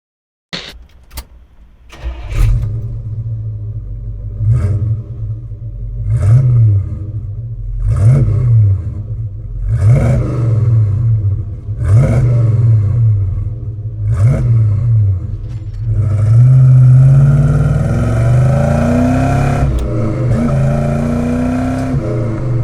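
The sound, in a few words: GM A-body car revving with Pypes exhaust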